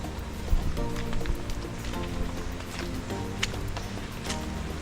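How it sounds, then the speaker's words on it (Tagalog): Steady rain on a hike to Mt Romelo, surrounded by greenery, patters and splashes across surfaces, a dense continuous hiss with scattered louder drops, no voices. "umuulan na naman sa part na to"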